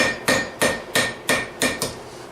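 An NC Cavalry rounding hammer strikes hot steel on an anvil while forging hammer hooks, ringing out six sharp, evenly spaced blows about a third of a second apart, loud and close with no talking.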